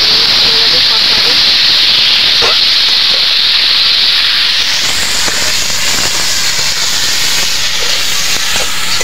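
Potatoes fry in a pan with spices, turmeric and salt, giving a steady loud sizzling hiss that runs the whole time and brightens partway through, with a few soft clicks on top.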